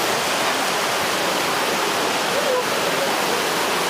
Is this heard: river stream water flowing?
yes